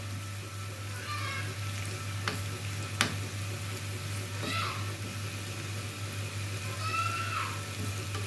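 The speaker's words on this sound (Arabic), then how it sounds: "التوم الجديد يا جماعه بياخد وقت بس في التحمير" Garlic frying in a pan for an Egyptian lunch, giving a steady, soft sizzle with a low hum under it and a few faint clinks from stirring, no talking.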